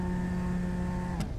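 A car engine in GTA V held at a steady, low idle rev with a constant hum and a brief click near the end.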